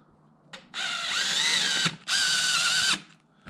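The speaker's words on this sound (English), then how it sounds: "I'm just going to run this center bolt down just to hold it in place." A power driver runs down the center bolt on an LT1 engine cylinder head during top-end reassembly, with two close, loud, steady whirring bursts of about a second each and a brief pause between them.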